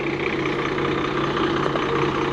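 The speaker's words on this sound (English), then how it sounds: "the way those things idle when it's one of them old mechanical B series Cummins" An old mechanical B series Cummins diesel idles in a 1995 Barth 34-foot Class A RV, a steady, close, low, even rumble with a throbbing pulse and no talking.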